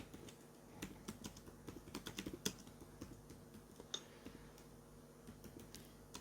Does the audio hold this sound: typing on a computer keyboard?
yes